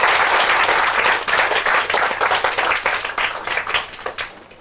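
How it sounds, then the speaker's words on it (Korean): Applause from an audience welcoming an invited poet at a Korean poetry hall event, dense clapping that is loud at first, then slowly thins and fades over several seconds. "박수를 부탁드리겠습니다"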